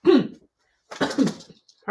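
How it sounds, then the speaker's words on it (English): Two short bursts of coughing, close and fairly loud, separated by a brief pause, with no talking. "I'm coughing a little bit here"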